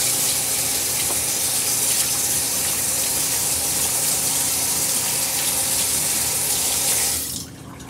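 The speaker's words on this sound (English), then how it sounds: "Get my hands washed again." Tap water running as hands are washed at a kitchen sink, a loud steady close gush that continues evenly for several seconds before cutting off abruptly at the end.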